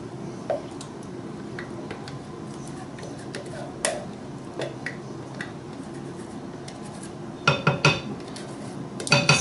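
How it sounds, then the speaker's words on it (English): Heavy cream being mixed into fresh peaches in a bowl for homemade ice cream, soft stirring with scattered light clinks of a spoon against the bowl, growing into a quick cluster of taps near the end. "Okay, so we're going to get the heavy cream"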